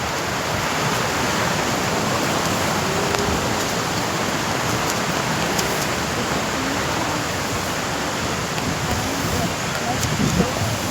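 Water from a small waterfall rushes steadily as a dense, constant roar of falling water that carries unchanged throughout, heard up close with no pauses.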